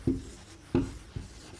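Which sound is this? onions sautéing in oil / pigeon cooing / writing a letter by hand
writing a letter by hand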